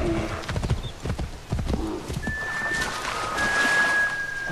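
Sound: horse galloping in Assassin's Creed 3 video game

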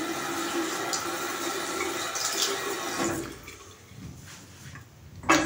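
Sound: splashing face with hot water before shaving

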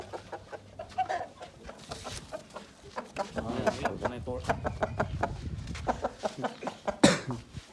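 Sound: rooster and hens clucking

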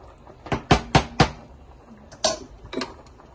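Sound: stirring salmon penne in a pot

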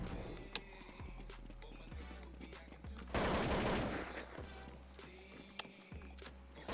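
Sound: scout sniper rifle gunfire in video game CS 1.6

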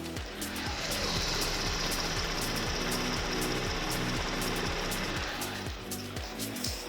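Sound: car engine idling

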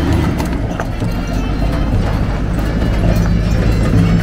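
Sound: horses' hooves clip-clopping as guests arrive on horseback

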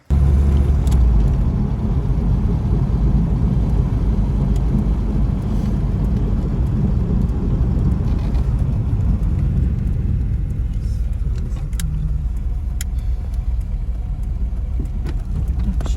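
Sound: car driving off

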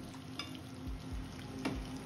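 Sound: mushrooms stir-frying in a pan

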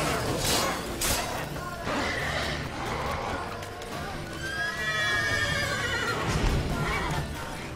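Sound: horse neighing in video game The Witcher 3

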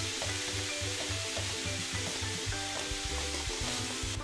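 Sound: meat frying in a pan

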